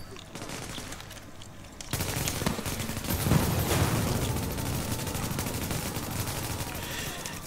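Gunfire in The Division video game, with dense sustained automatic bursts and rapid shots layered over a noisy battle background that grows louder after a couple of seconds, and a voice briefly exclaiming early on.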